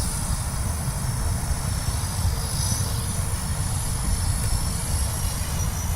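Blade Fusion 180 micro RC helicopter running on a 4S battery with its motor and rotor spun up in idle-up mode, giving a steady, loud broadband whine and rotor wash with no pauses.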